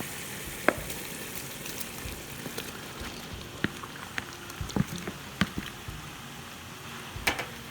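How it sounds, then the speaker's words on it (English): Rice tipped into a hot pan for Indonesian nasi goreng, giving a steady faint sizzle dotted with sharp clicks and taps of a utensil against the pan. "Now I'm going to start adding my rice."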